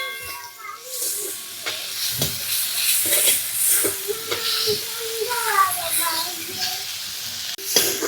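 A vegetable dish being stirred as it fries in oil in a pan, with a steady sizzle and hiss and scraping stirs throughout, close and moderately loud.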